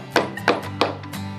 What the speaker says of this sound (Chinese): 用力往下压， 然后再大力敲。